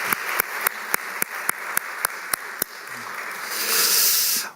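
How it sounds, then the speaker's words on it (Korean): A church congregation applauds the choir during a Sunday service, with evenly spaced crisp claps that swell into a broad wash of clapping near the end, no voices. "우리 1년 동안 수고하신 우리 성가대를 위해서 격려의 박수를 한번 할까요?"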